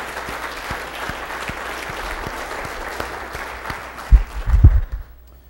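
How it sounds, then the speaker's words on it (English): Audience at a dinner banquet applauds in a sustained, even wash of clapping heard from across the room, with a few louder thumps near the end as it tapers off. "I want to give a round of applause to those people"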